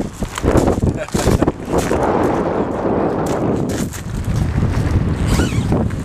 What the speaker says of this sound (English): This wind has been hitting us straight on.